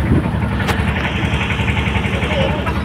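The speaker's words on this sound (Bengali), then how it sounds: "আর এই যে আমাদের ট্রলার" A trawler boat's engine chugs steadily nearby in a fast, even low rhythm that runs without a break, with a little background noise over it.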